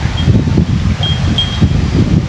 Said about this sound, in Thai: บรรยากาศตอนนี้ล่าสุดเลยลมเย็นเย็น สุดยอดเลยครับ ลม